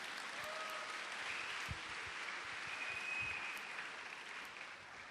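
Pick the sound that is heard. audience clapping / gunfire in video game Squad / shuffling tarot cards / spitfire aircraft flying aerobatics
audience clapping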